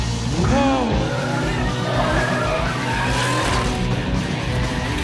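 Movie car chase in which a vehicle tears along at speed, tires squealing in rising and falling skids over a steady engine roar, with voices and film score mixed in.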